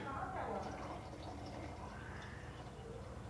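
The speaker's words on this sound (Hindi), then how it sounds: "और फिर हम इसमें 1/2 ग्लास पानी डालेंगे।" Half a glass of water, reused from boiling spinach, poured into a pan of palak paneer with fried paneer, a short soft trickle and splash of filling liquid, faint, followed by low kitchen background.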